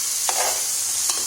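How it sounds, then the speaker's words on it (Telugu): Chicken in a ginger-garlic masala cooks in a pan over a low flame, a soft, steady sizzle broken by two brief scraping stirs, with no voices. "చిన్న మంట మీద మంచిగా మగ్గియడమే అండి చికెను."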